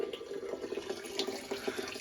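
Water running from a long hose into a bucket, a steady soft splashing and trickling stream at close range, fairly quiet and continuous with no voices.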